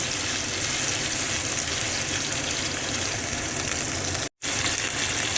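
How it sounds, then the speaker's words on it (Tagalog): Sliced beef and onions fry in a hot pan with a loud, steady, hissing sizzle that runs continuously, broken only by a momentary gap near the end, and no one speaks. "Put the sliced beef onions."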